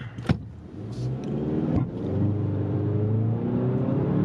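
A Hyundai Santa Cruz pickup's turbo engine revs up and pulls steadily, accelerating from 0 to 60 while towing a boat, its drone rising and sustaining after a couple of brief clicks.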